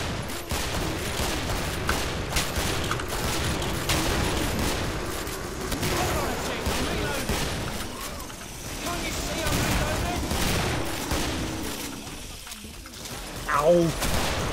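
An explosion and gunfire in the co-op shooter game Killing Floor, a dense rattle of shots and bursts that runs throughout with a louder boom near the end, mixed with players' voices.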